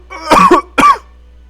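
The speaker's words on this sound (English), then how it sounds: "God, I'm coughing a lot." Two sharp, close coughs in quick succession, the second shorter, followed by quiet.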